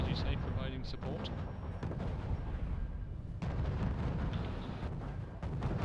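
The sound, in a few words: artillery fire in a strategy video game match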